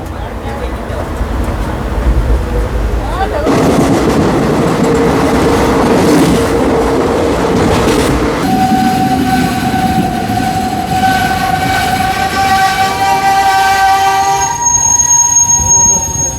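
A diesel express train, 16545 Yeshwantpur–Sindhanur, heard from inside a packed 3rd AC coach: a heavy, continuous running rumble, with sustained horn tones sounding through the second half.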